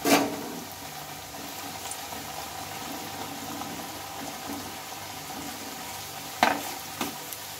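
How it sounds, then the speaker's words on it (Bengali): Taro pieces fry in hot oil with a soft, even crackle and bubbling, fairly quiet and steady, broken by a louder clatter of pieces being added or stirred at the start and near the end. "আমি কচুটা দুবারে ভেজে নেব"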